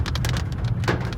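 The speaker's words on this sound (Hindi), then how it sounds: "बारिश भी साथ है हमारे।" Rain falls steadily outside a residential society in Lahore, a constant close patter with scattered sharper drop hits and a low rumble beneath.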